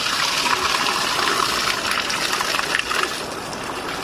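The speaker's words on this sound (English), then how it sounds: "pour out into the drain whilst pushing this button at the top here" Water pours from the tank of a Rimor Horus 38 (2024) motorhome into a drain in a steady, loud, close gushing rush that eases slightly near the end, with no talking.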